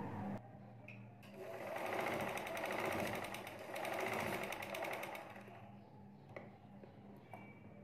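A sewing machine stitching a baby dress whirs in a long continuous run with a rapid mechanical rhythm, swelling and easing slightly before stopping, then a few light clicks and handling noises.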